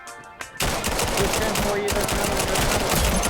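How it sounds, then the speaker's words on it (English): Rapid pistol shots in the VR shooter game VAIL, a dense burst of repeated gunfire after a short quiet start, loud and continuous to the end. "switching to your pistol for a last-second kill is definitely one of the best feelings you can have in a fast-paced VR shooter"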